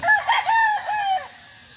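A Kelso game fowl rooster crows from a breeding cage, one long harmonic call with a rising then trailing contour, close and fairly loud, with no talking.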